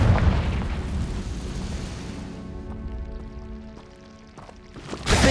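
A Confringo blasting spell explodes in the video game Hogwarts Legacy: a broad rumbling blast that fades over a few seconds under steady game music tones, then a second sharp burst right at the end.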